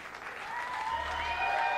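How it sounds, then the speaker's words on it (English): Audience applause at a concert at The Marquee in New York City, a steady wash of clapping that swells slightly, with a few tonal sounds faintly underneath. "to enjoy your thunderous applause"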